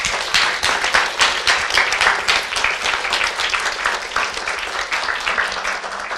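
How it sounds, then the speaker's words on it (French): An audience applauds at a scientific outreach event, thanking presenters with dense, continuous clapping that holds steady and fairly loud from start to finish. "Et on tenait aussi à ce que vous les remerciez et à les applaudissiez."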